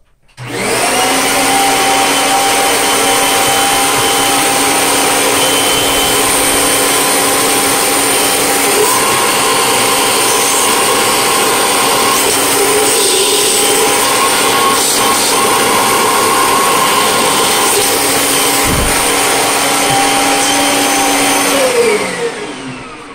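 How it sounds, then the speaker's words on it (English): A Kirby Centria 2 vacuum cleaner runs loud and close, starting up and holding a steady high-pitched motor whine and airflow roar for the whole stretch before winding down at the end. "let's go and take a Kirby Centria 2"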